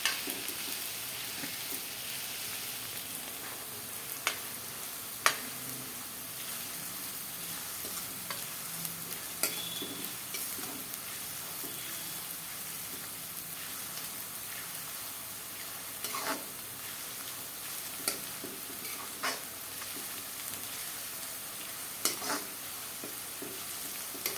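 Garlic fries in hot oil, a faint continuous hiss with occasional soft clicks and scrapes of stirring, quiet and steady throughout with no voices.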